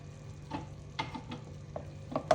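Two tablespoons of flour roasting in oil at one side of a pan, a quiet low sizzle with several soft scraping stirs at irregular intervals.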